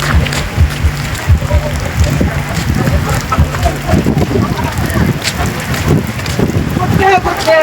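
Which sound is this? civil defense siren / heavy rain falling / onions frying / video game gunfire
heavy rain falling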